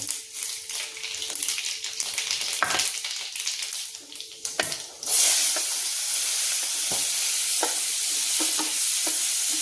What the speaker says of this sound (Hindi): अब इसमें हम डाल देंगे ये पचफोरन। इसमें जीरा है और राई है, सौंफ है और मेथी है थोड़ी सी।